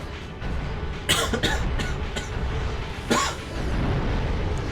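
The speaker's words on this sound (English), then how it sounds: "Well, there's that cough." A person coughs twice during Drakengard gameplay, a sharp burst followed by a second cough about two seconds later, over steady game noise.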